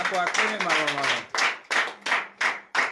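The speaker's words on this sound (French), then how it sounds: "Donnez l'acclamation à Jésus." A church congregation at a Saturday morning prayer service clapping and acclaiming, with voices shouting and cheering over the first half, then loud rhythmic bursts of clapping in a steady pulse, close and energetic.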